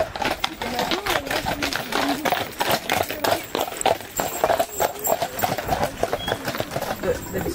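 Horses walking on a stony path in the Lot countryside, hooves clip-clopping in a steady, close, continuous rhythm with some overlapping steps, under faint background talk.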